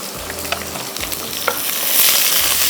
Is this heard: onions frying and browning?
yes